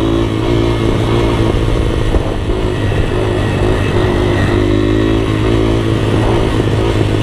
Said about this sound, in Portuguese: Essas motos trail, pessoal, elas são muito fáceis para dar grau.